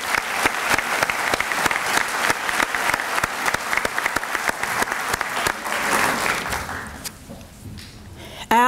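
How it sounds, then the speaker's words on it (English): Audience applause for a city mayor and school committee at a public schools evening celebration, a long burst of steady clapping that fades out near the end before a voice returns. "So can we give our mayor and school committee a huge round of applause?"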